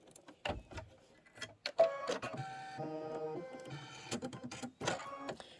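A computerized embroidery machine stitches an outline around a popsicle appliqué block, giving quiet close mechanical whirring and ticking with a few tonal motor whines and scattered clicks.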